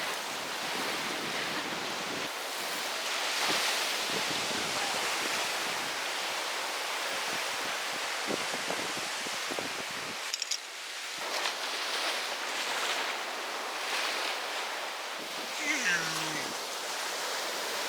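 Ocean surf washes steadily onto the beach at Edisto Island State Park, a broad continuous hiss of breaking waves with wind noise, joined by brief voices and bumps nearby.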